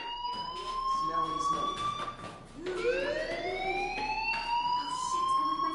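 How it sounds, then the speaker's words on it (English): A rising, wailing electronic fire alarm sounds in the Life is Strange video game, its steady tone sweeping upward midway and sustained loudly over a faint background hum. "do you hear that fire alarm?"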